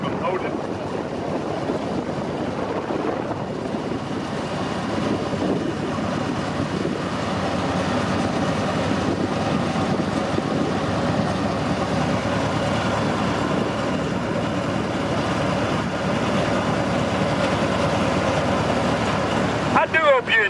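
Ride aboard a locomotive-pulled train in Goldfield, a steady rumbling roll with wind buffeting the microphone, continuous and moderately loud, with someone speaking over it at times.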